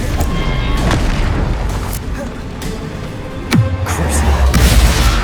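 The Incendio fire spell is cast in Hogwarts Legacy, producing loud booming blasts over a continuous rumbling roar, with a heavy burst partway through and more booms to finish.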